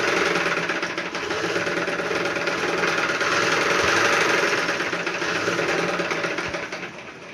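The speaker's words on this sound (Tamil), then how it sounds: "வச்சுட்டு இங்க ஒரு தையல் போட்டுட்டு வரேன்" A sewing machine stitches a dress for Amman, running loud and continuous with a fast mechanical whir and rapid needle chatter for several seconds before slowing near the end.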